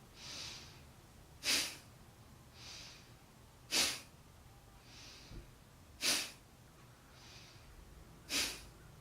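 Breath of fire, a rapid belly-breathing exercise, heard as four sharp forceful exhales through the nose, evenly spaced about two seconds apart, each followed by a softer inhale, close and alone in a quiet room.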